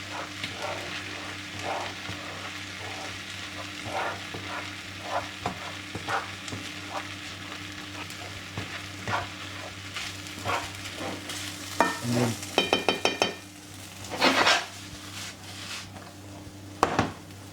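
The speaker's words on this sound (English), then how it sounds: "Stir the nasi over, stir that rice together with the egg" Egg and rice for a chicken and shrimp nasi goreng sizzle steadily in a hot wok as they are stirred together, with a few louder scraping and clattering strokes toward the end and no talking.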